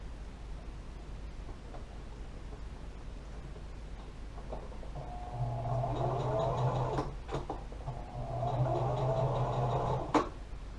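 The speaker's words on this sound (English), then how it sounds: "So this end has been sewn shut" A sewing machine stitches a seam on a homemade rabbit bed, running in two steady whirring bursts of a few seconds each over quiet room noise, close and moderately soft with no talking.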